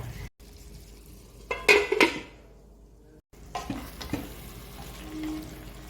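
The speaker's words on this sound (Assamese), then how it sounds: "ইয়াতে দিছোঁ অকণমান জালুকৰ গুড়ি। এতিয়া এইখিনি ভাল কৰি ভুনি ল'ব লাগিব।" Meat with black pepper powder sizzles in a pan, with a burst of loud hissing and scraping as it is stirred, then quieter frying with occasional utensil knocks, close by and without talk.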